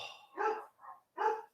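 Several dogs bark in short loud bursts, three distinct volleys spaced about half a second apart, close by with no talking over them.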